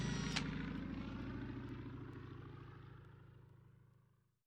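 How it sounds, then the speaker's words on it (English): Attack aircraft flying low in the War in the Pacific video game, a steady droning propeller engine with a pulsing low hum that fades out at the end, heard alone. "Now we're flying it low with our attack aircraft."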